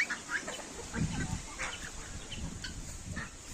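Chickens cluck softly in a farmyard where turkeys and chicks feed, scattered calls and low murmurs with faint bird chirps and general barnyard ambience, no talking.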